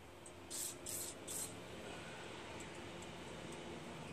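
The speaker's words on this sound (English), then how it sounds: "Carb cleaner." Three short hissing bursts of carb cleaner sprayed onto a snow blower carburetor, quick and fairly close, followed by quiet background.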